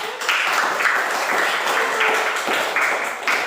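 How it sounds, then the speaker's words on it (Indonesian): A classroom bursts into applause for a student group, with many hands clapping in a dense, steady patter that continues loud and close throughout. "Kasih tepuk tangan untuk kelompok 1."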